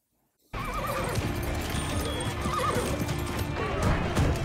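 Horse neighing and whinnying with clip-clopping hooves from a battle scene in the TV series Vikings, starting suddenly after a brief silence and continuing loud and busy, with whinnies repeating over steady hoofbeats.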